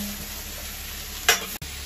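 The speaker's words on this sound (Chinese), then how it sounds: "我姨已经开始炒菜了，这么多土豆丝儿" Shredded potatoes stir-fried in a wok in a small home kitchen, a steady sizzle running throughout with one sharp scrape of the spatula near the end and a brief dropout just after.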